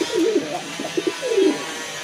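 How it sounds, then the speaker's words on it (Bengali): A pair of fancy pigeons at a breeding farm giving low, rolling coos, close and clear over a faint background hum. "আরেক জোড়া কবুতর"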